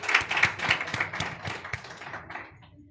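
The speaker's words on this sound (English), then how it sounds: "Please, a big round of applause to Dr." A round of applause for a speaker at an in-person conference session in Namibia: faint, steady clapping from a small audience, fading out after a few seconds.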